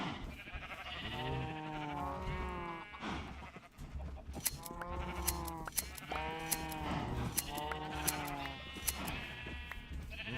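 Sheep in a modded Minecraft game bleat over and over, a steady run of wavering baas that overlap one another for several seconds, loud and close.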